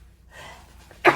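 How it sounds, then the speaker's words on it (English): A single sharp sneeze bursts out at the end after a brief quiet breath, close and fairly loud. "3 or 4 times I will sneeze."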